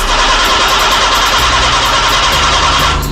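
A small car with a 0.6-litre engine cranks and catches, settling into a loud, steady mid-pitched idle that fills the whole stretch, with no voices.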